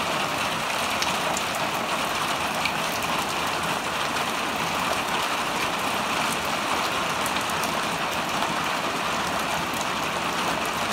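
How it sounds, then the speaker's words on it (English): Heavy rain pours down steadily in a sunny Hawaii downpour, a dense, continuous hiss of drops drumming on surfaces that holds at a constant loud level throughout, with no voices. "It rains like this in Hawaii a lot, where it's sunny outside and then just pouring down rain."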